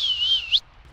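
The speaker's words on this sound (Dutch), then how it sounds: "Ik fluit ze, dat herkennen ze." A single sustained human whistle, bright and close, holding steady before a quick rising flourish at the end, used to call sheep outdoors; no talking during it.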